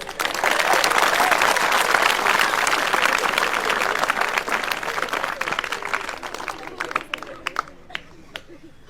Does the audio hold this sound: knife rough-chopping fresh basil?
no